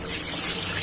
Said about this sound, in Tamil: மீனை நல்லா கழுவிக்கலாம்